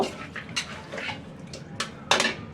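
Pieces of meat go into a pot of well-fried biryani spice mix with the oil risen to the top, making a few scattered clanks and scrapes of a utensil against the pot, moderately close, with no voices.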